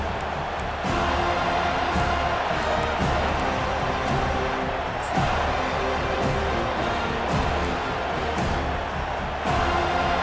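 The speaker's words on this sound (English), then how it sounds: "this home crowd is fired up and ready to make a difference today" Home crowd noise in an American football video game, a steady roar of cheering from a large stadium with rhythmic thumps and swells, no talking.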